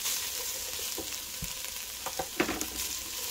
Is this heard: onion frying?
yes